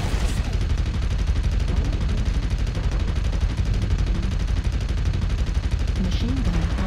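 Machine gun fire in the MechWarrior Online battle game, a dense continuous rattling burst running unbroken for several seconds, loud and close with a faint voice near the end.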